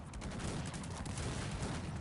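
Rapid, dense gunfire from the video game Cossacks 3 crackles continuously, like a sustained battle volley of many shots overlapping, fairly faint and distant.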